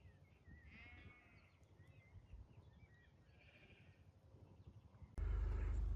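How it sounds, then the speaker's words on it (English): Sheep bleat in an open field with lambs let out nearby, a few wavering calls at mid distance over outdoor background noise, ending in a sudden loud burst of wind or handling noise. "The first 10 sheep are out now."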